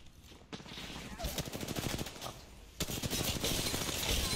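Video game gunfire, bursts of rapid automatic shots, quieter at first and then a louder sustained volley near the end, mixed with footsteps and faint chatter.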